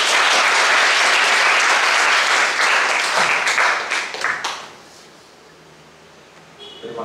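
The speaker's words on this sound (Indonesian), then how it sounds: "Tepuk tangan buat beliau." Students at a high school leadership-training closing ceremony at SMAN Pilangkenceng applaud their OSIS supervisor, a loud, full burst of clapping that thins and fades out, leaving near silence.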